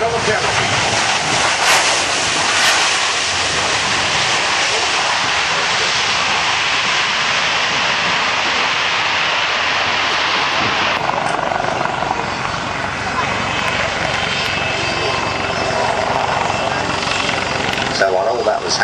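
A military jet takes off across the airfield at the Biggin Hill Airshow, making a loud, sustained roar that shifts in tone partway through. A public-address commentator talks over the engine noise.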